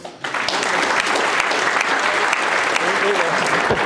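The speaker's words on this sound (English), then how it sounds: "big round of applause" A large audience claps steadily, a dense sustained wash of applause that starts abruptly and holds throughout.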